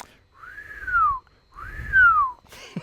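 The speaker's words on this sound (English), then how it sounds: "So when you rev it or going down the road, you hear the whistling." A turbocharger on a 2016 Mercedes A180 1.5 CDi diesel whistles as the engine is revved: two separate rising-then-falling whines, each over a low engine rumble, with a short gap between them.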